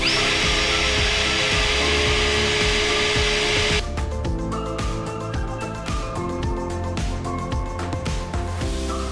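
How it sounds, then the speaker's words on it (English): A power drill bores out pop rivets on a GX 300 series Landcruiser's guard panel during a snorkel install, giving a loud, steady whine that shifts to a lower, rattling grind partway through. "Drill out the 4 pop rivets using various size drill bits"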